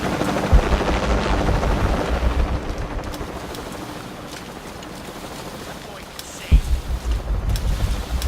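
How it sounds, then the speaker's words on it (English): In Shadow of the Tomb Raider, a helicopter's whirring rotor drone rumbles steadily under game ambience with a few sharp impacts and bursts, while a player talks over it. "Are you gonna bring a fucking chopper out on my ass?"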